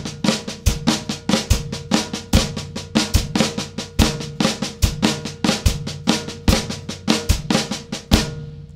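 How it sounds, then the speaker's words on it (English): Flam taps on a snare drum are played in groupings of five with right flam right, left flam two lefts sticking, giving an even, rapid stream of crisp strokes with accented flams recurring regularly, close up and alone. "the sticking is right flam right, left flam 2 lefts."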